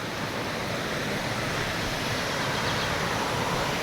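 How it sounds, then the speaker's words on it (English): A river rushing through the Yorkshire Dales, a dense, constant broadband roar of flowing water, loud and close with no breaks, nothing else audible. "The river swell."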